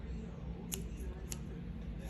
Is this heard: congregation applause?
no